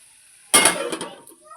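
A lid lands on a pan of ridge gourd frying with coconut in one brief metallic clank with a short ringing rattle, followed by a faint settling tap.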